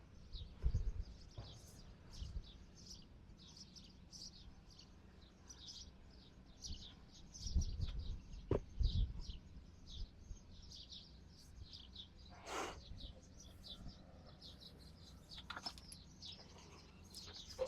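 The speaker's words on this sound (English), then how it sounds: "I start to hear the birds." Birds chirp and sing outdoors in a calm spot, faint repeated tweets in the distance over a quiet background, with occasional soft rustles and no talk.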